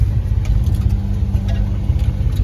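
A 1991 Ford Ranger engine runs in third gear with four-wheel-drive low engaged, giving a close, continuous low drone with a steady throaty rumble throughout.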